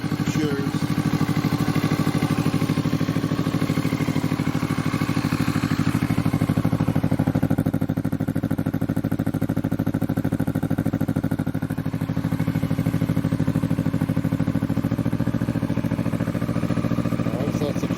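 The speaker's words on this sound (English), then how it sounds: "that's a cold start up with the new exhaust" A 2020 Kawasaki Vulcan S motorcycle idles after a cold start through a budget aftermarket exhaust, a continuous low rumbling drone with mechanical clatter, steady and close throughout the whole stretch.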